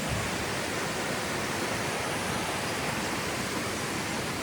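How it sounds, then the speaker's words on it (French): A mountain torrent in the Alps rushes with a steady, broadband roar of water, constant and unvarying throughout, filling the background with no voices heard. "Je sais pas si on entendra quelque chose avec le torrent."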